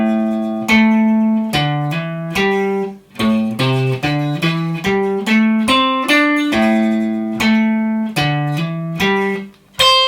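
Guitar running a pentatonic scale exercise, climbing and descending in steady single notes, each plucked attack ringing clearly and close for about ten seconds with no talking.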